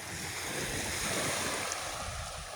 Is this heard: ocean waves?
yes